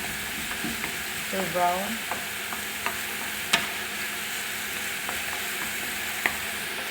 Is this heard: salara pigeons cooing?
no